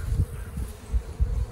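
Honey bees at an open hive during an inspection, giving off a low, continuous buzzing that swells and fades as they fly close, with no voices.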